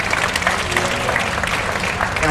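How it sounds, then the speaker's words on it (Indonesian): Audience applause at a motivational seminar at Menara 165, a dense, loud wash of many hands clapping close by, with faint voices mixed in. "tepuk tangan dulu"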